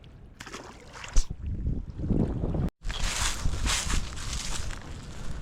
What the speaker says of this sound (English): The wind has picked up so much that I don't think we're going to be able to fish anymore.